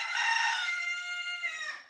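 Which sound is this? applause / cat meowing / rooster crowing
rooster crowing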